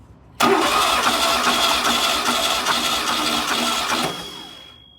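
A VW Type 1 1776cc engine running on a bench starts abruptly with a quick catch, then holds a loud, close, even idle for several seconds before shutting down and fading out.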